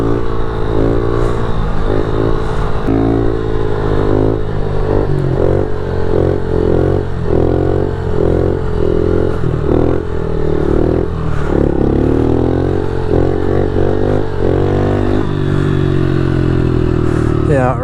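Road-legal pit bikes ride on back streets, their small engines droning loudly and steadily, revving up and down close by. Voices can be heard under the engine noise.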